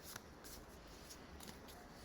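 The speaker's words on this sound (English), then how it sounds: "So I'm going to shuffle here." Tarot cards from a Light Seers deck being shuffled by hand, a steady run of soft riffling and papery slides with repeated brief bursts, fairly quiet and close, with no talking.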